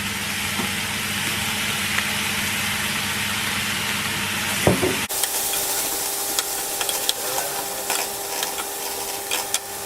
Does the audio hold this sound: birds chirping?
no